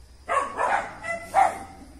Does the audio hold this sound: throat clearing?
no